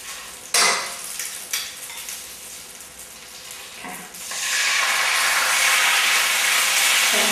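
Thai red curry paste stir-fried in a pan as coconut cream is added, a few sharp scraping clinks of a utensil, then a steady loud hissing sizzle that swells and holds.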